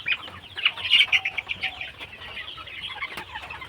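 Sick chickens cluck and squawk in a small flock, a busy scatter of calls close by with a brief burst of wing flapping.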